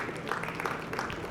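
A brief, soft round of audience applause fills the hall at an automotive industry talk. The clapping is a dense, even patter heard alone and fairly faint throughout.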